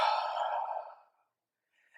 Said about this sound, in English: Just inhale slowly, exhale slowly.